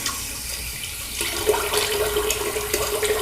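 Tap water runs steadily into a sink while a face is rinsed after shaving, the flow shifting to a fuller splashing rush partway through.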